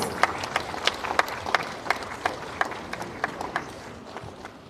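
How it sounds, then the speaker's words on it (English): Audience applause at an international conference on women-led organic farming, greeting West Garo Hills: a steady stream of sharp claps from a modest crowd, fairly close and clear, tapering slightly toward the end with no talk over it. "A round of applause."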